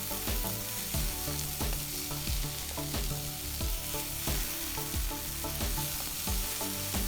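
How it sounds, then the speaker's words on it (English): Onions sizzle loudly in a hot pan while a utensil scrapes and stirs in a quick, repeated rhythm, close up. "stir frying is to cook quickly under high heat"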